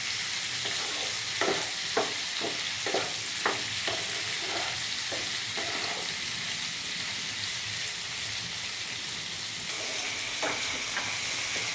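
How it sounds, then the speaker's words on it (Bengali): Ingredients for chilli mushroom fry in a pan with a steady sizzle, broken by a series of sharp scraping stirs in the first half and a few more near the end. "এটা একটু ভাজতে হবে।"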